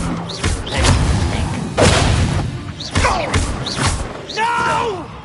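Incendio fire spell cast in the Hogwarts Legacy video game, heavy whooshing bursts and thuds repeating through busy combat effects, with voices speaking over the action.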